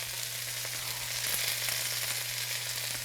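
Garlic and onions sauté in a pan with a loud, continuous close-up sizzle. A faint steady hum runs beneath it, and an occasional light stir breaks through.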